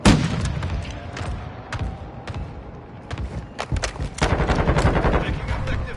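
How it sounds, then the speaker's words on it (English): Rapid automatic gunfire and bursts of shots from a Call of Duty Modern Warfare 2 match, with sharp cracks scattered throughout and a denser barrage near the end, with faint voices mixed in. "Taking effective fire."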